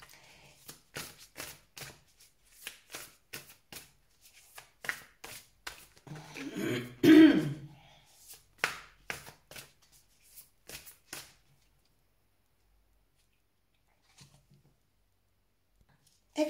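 Tarot cards shuffled by hand in a quiet room, a close run of crisp riffling flicks and soft slaps in uneven bursts, fading into near silence.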